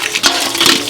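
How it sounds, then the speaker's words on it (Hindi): Water gushing from a tap while dishes are washed, a brief, loud, splashy rush lasting about a second. "लाओ हम पानी चला दै छी"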